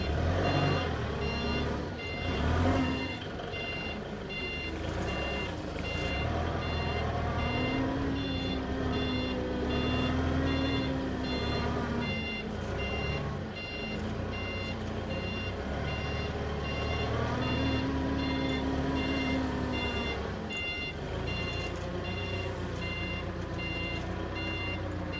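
An LG CLG2025H 5,000 lb diesel forklift reverses, its backup alarm beeping in a steady repeating pattern over the continuous drone of the idling diesel engine.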